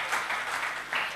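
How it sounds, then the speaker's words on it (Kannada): Applause from a live audience at a Kannada talk and gamaka recitation program, a short burst of steady clapping that swells twice, moderately loud and fairly near, with no voices over it. "ಒಂದು ಚಪ್ಪಾಳೆ ಹೊಡೀರಿ ಹೋಗ್ಲಿ ಅತ್ಲ ಕಡೆ."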